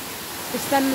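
Dip Falls in Tasmania roars as a broad, steady wash of falling water, with a voice briefly heard over it near the end.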